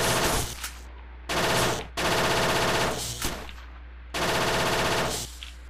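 Rapid automatic gunfire in the top-down shooter Crimsonland comes in long sustained bursts separated by short pauses, loud and continuous, with no talking.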